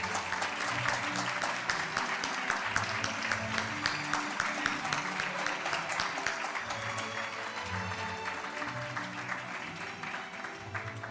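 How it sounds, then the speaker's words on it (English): Sustained applause from a large audience at a Latin American summit gathering, dense steady clapping that rolls on evenly without pause for the whole stretch. "Let us give one other round of applause"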